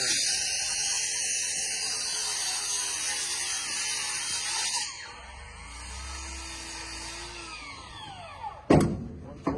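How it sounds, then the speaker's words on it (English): A saw cutting through a wood board in a workshop gives a steady, loud mechanical whine that shifts in tone partway through and ends in a sharp burst near the end. "Tommy, just cut some wood board."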